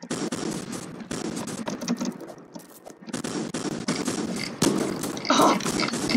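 Rapid shotgun blasts fire in the Food Fight video game, loud bursts of sharp cracks packed close together with brief gaps between volleys.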